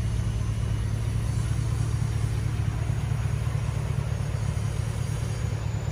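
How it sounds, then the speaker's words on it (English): A 2009 Hummer H2 SUV idles through its dual exhaust pipes, giving a steady, low, throaty rumble that stays even and moderate in volume without revving. "Has a nice little throaty rumble, but it's not loud or obnoxious."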